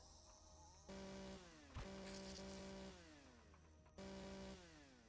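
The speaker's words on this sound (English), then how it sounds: "let me use this chainsaw on you" A chainsaw in the Empyrion video game revs in repeated bursts, its buzzing engine tone rising and falling over several pulses with a sharp clank in between, close and fairly quiet.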